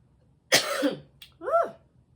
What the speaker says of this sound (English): I can get through these coughing spells